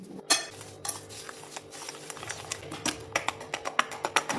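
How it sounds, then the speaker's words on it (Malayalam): A spoon clinks and scrapes against a bowl while mashed ripe Robusta banana is mixed with sugar, a series of light, irregular taps growing quicker toward the end, close and fairly quiet. "അതിലേക്ക് ഷുഗർ ആഡ് ചെയ്ത് നല്ലപോലെ ഒന്ന് മിക്സ് ചെയ്യാം"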